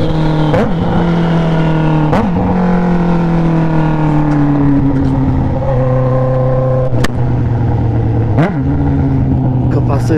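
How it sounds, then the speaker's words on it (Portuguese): A loud Honda CB1000 motorcycle engine drones steadily with rising and falling revs, punctuated by a few sharp gear-shift blips, sounding close by. "Essa moto é brava demais"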